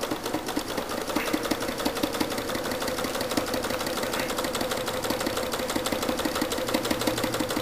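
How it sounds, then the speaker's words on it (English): A sewing machine runs steadily, edge stitching orange thread around a butterfly wing on a quilt. The needle taps in a fast, even rhythm, close and continuous, with no talking. "I'm just edge stitching this around just to hold it in place."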